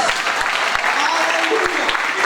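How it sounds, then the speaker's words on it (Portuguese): Congregation applause in a church service, a dense steady clatter of many hands filling the short moment, with voices mixed in beneath it. "aplauda o Senhor Jesus"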